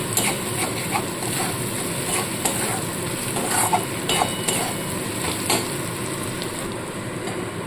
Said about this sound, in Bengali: দেবো একটু গোলমরিচের গুঁড়ো, দিয়ে ভালো করে আবার একটু নাড়াচাড়া করে নিতে হবে।